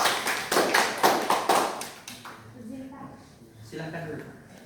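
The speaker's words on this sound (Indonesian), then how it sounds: "tepuk tangan untuk kita semua" Classroom applause in an Islamic religious education microteaching lesson: about two seconds of rhythmic group clapping in near-unison beats, stopping abruptly before a person starts talking.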